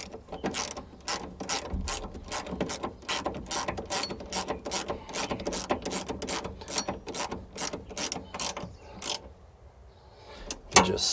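A ratchet tightens a 9/16 bolt on a Bobcat skid steer seat bar sensor, giving a fast run of close, crisp clicks in repeated bursts, then a short pause and a final click.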